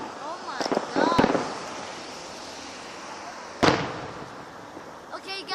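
Fireworks go off in a few sharp, loud bangs with crackling bursts, one near the start and another about midway, separated by a steady rumbling hiss.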